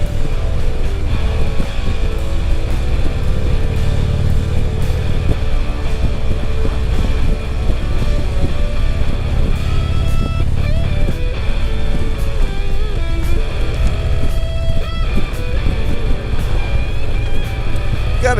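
A Harley-Davidson CVO Street Glide riding on open highway between snow storms, a steady loud engine drone mixed with heavy wind rush that continues without a break.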